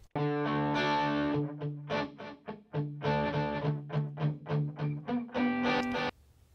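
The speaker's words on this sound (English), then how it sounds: "Here we go with a soloed electric guitar." A solo electric guitar plays a distorted, chugging riff with sustained notes and quick repeated chords, each phrase trailing into a short echoing repeat, with no voices.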